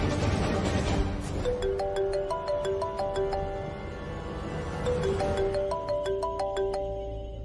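A phone ringtone plays a repeating melodic chime, clear and fairly close, cycling twice over a low background rumble.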